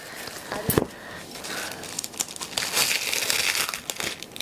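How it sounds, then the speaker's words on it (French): Close, crisp crinkling and rustling of thin tissue paper being unwrapped from a wand, with irregular bursts of crackling throughout. "vous avez la baguette qui est emballée dans un papier de soie"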